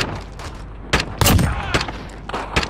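Gunfire in Call of Duty Modern Warfare, several sharp bursts of shots scattered over a few seconds between quieter game ambience, close and punchy, no voices.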